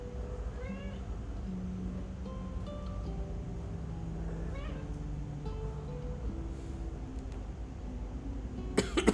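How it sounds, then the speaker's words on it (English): A pet cat meows repeatedly in short rising and falling calls at close range, with a clattering burst at the end. "My cat is here."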